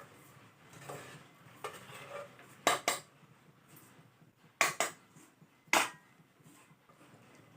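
Metal spoon clinks and scrapes against a pot as masala is added to potato vegetable biryani, with three sharp, fairly loud knocks standing out over a quieter background.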